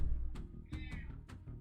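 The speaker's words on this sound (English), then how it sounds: "I don't know if you can hear her meowing in the distance." A house cat meows faintly in the distance, giving two or three short, thin cries over a low room rumble.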